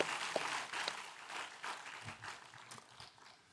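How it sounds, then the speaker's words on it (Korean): Applause during a Wednesday church service at Daegu Hana Church, a congregation clapping in a soft, fairly distant wash that gradually fades. "박수 하나님께 돌려드리겠습니다"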